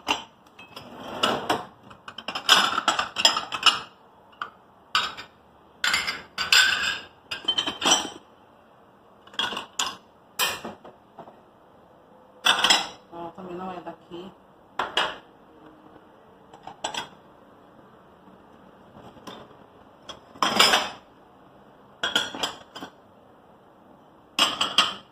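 A porcelain saucer and cup clink and clatter as dishes are put away during quick house cleaning, with sharp scattered clinks and knocks in irregular bursts, close up, separated by short quiet gaps.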